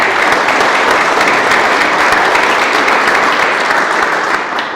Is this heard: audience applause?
yes